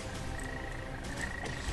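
Frog croaking in the video game Dragon Nest, a steady tone running through dense game audio with faint chirps, no talk over it.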